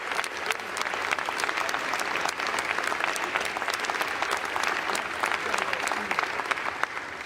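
A large audience claps steadily in a hall, dense sustained applause at moderate level running throughout with a faint voice underneath.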